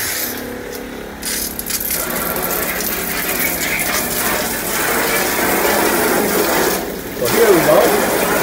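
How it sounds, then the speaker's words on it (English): Water gushes and gurgles steadily out of the tub drain in a mobile grooming bus, with mechanical clicks and clunks at the start and a louder gurgle near the end. "It'll help if I open it up here so the water can come out."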